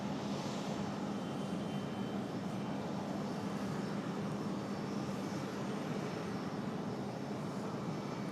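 A Frontier airliner departing Raleigh-Durham airport gives a steady, broad engine roar, distant and even in level, holding without a break.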